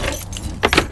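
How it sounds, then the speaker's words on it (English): Metal keys jangle in two short bursts while being pulled out at a small mailbox, close and fairly loud over a low steady background hum. "Let me get my keys out"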